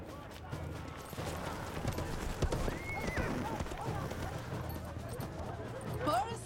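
Horse hooves clip-clop over a busy outdoor scene at a British Army barracks in Cork, Ireland, in 1905, with voices, a whinny and background bustle around the steady hoofbeats.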